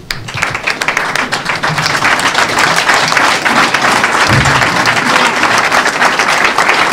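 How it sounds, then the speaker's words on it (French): Audience applause for young people at the book signing of Koua Justin's "Cahiers de Prison", loud and sustained clapping from a crowd filling the whole stretch with dense, steady hand claps. "que nous nous levons tous pour les acclamer"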